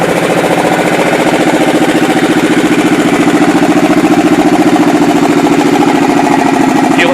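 A fuel-injected Suzuki Boulevard C90 motorcycle idles loud and close just after starting, its steady, even engine pulse continuing unbroken throughout with no talk over it.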